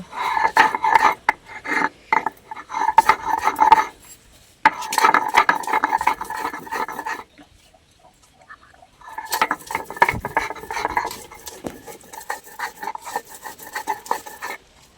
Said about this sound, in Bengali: রসুন এগুলো বেটে নেব